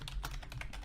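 Fast typing on a computer keyboard while entering a parameter name in lighting software, quiet rapid key clicks with a faint background hum, close but soft.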